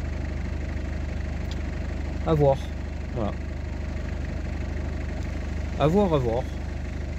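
A Citroën Xantia's engine idles with a steady, low hum and a faint knock, running continuously while someone speaks briefly over it a few times.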